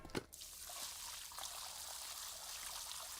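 Water pours and splashes onto a floor inside a house, a brief loud spill at the start followed by a steady, close trickling stream that runs on continuously.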